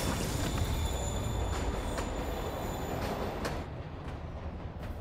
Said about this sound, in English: train's moving